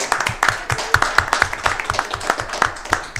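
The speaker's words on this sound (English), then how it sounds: "All right, round of applause, thank you." A small crowd at a town council meeting gives a round of applause, distinct individual claps at a brisk, slightly uneven rhythm, close and fairly loud, rather than a dense roar.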